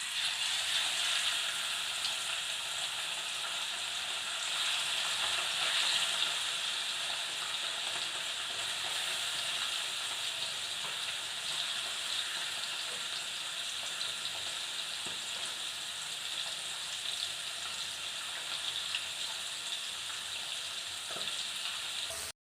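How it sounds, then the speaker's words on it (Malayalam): Fish fries in hot sunflower oil, a steady, dense sizzle that holds at a close, even level for the whole stretch with no voices over it. "ഇതാ മീൻ വറുക്കാൻ വെച്ചിട്ടുണ്ട്."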